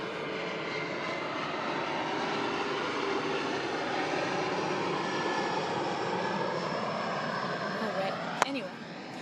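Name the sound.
airplane flying overhead on airport flight path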